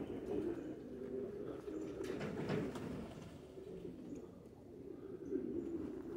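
Racing pigeons, both white and dark birds, coo steadily in low, throaty rolling calls that overlap one another in a continuous outdoor chorus.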